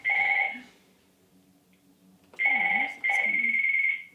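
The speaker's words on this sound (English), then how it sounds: "You might hear the phone ringing quite a lot during this episode." A home telephone rings indoors in two-tone electronic bursts, one ring, a pause, then two more close together, clear and fairly loud in a quiet room.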